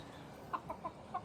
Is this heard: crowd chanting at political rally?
no